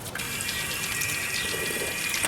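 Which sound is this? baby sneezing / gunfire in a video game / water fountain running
water fountain running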